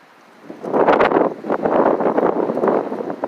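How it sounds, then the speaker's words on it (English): Gusts of wind buffet the microphone in rough, blustery bursts, loud and close with no voices. "And very windy."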